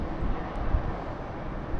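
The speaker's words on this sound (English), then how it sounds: "Nice aerial view of an airplane going through." An airplane passes over Appalachian Power Park in Charleston, West Virginia, as a steady, broad engine roar that holds throughout, with wind rumbling across the microphone.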